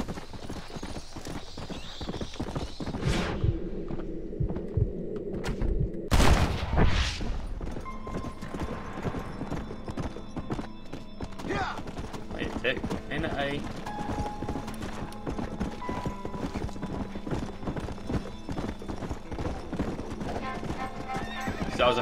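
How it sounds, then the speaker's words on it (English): Hooves clip-clop steadily with a loud neigh bursting out early on from an undead horse in Red Dead Redemption: Undead Nightmare, then the trotting continues at a moderate, even pace. "this is what it turns into. An undead horse. They are rideable."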